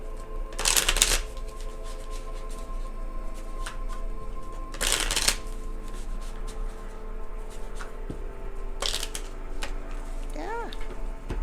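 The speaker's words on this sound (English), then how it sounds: "Let's shuffle." A deck of tarot-style cards is shuffled in three quick riffling bursts spaced a few seconds apart, crisp and close, with quiet handling sounds between and a voice faintly present.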